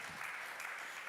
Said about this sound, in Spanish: Un aplauso para Wolfgang